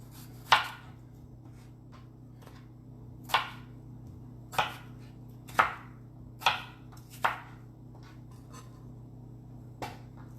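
Knife cutting potatoes into wedges on a cutting board, about eight sharp separate chops spaced irregularly over a low steady background hum.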